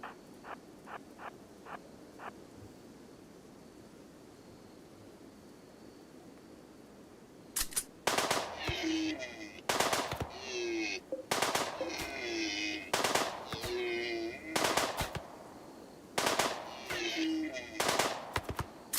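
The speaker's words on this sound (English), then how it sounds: "He went submachine gun first." Submachine gun fire in Rimworld comes in quick repeated bursts of sharp shots after a quiet opening that has a few faint clicks, growing loud and dense toward the end.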